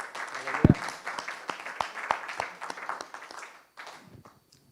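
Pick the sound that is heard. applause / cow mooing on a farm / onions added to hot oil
applause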